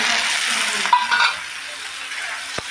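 Fish fat sizzles in hot oil in a home kitchen pan, giving a steady, close hiss with soft stirring scrapes and one sharp pop near the end.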